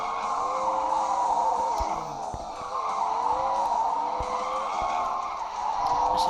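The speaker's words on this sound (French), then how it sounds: "certaines voitures, c'est très dur à déraper sur le côté comme ça." A car drifting sideways in a video game, steady engine drone with sustained tyre squeal and brief thumps, moderately loud and continuous, no talk.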